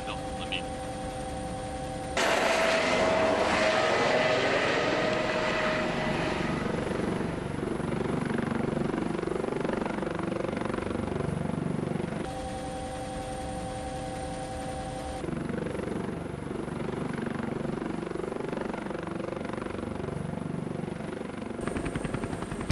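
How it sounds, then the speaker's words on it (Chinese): A military helicopter drones steadily nearby, the rotor thump and turbine whine continuous and fairly loud, with a brief shift in tone partway through and faint talk beneath. "那这直升机怎么办？"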